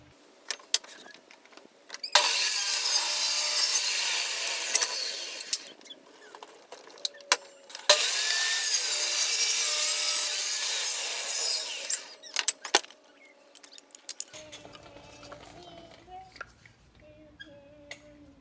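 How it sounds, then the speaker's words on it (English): A table saw cuts through a wooden pallet board in two loud, sustained bursts of blade noise, separated by a short pause and followed by quieter clunks as the saw winds down. "So I'm going to go cut that on the table saw."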